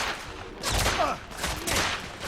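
Gunfire in the Victorian-era shooter The Order: 1886, a burst of several loud, close shots with rattling reports over a continuous noisy game backdrop, heavier in the middle and again near the end.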